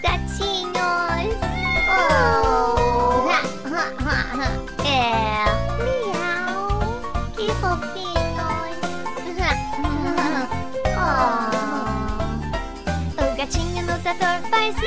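Cheerful singing imitates cat meows, singing "miau, miau, miau" in Portuguese, over a busy children's song about a kitten on a tractor, with steady percussion and bright instruments.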